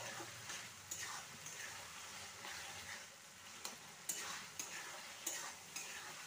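Pea pulao mixture sautéed in a pan, giving a steady close sizzle broken by repeated scraping stir strokes at an uneven rhythm, with no voices.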